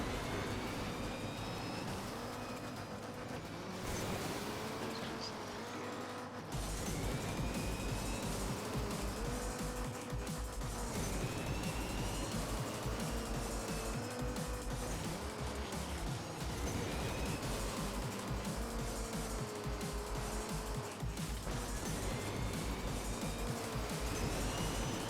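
Loud, continuous engine roar of a monster truck racing in MotorStorm: Pacific Rift on PS3, with rising and falling revs over constant rumbling, a brief drop early on, then steady dense noise throughout.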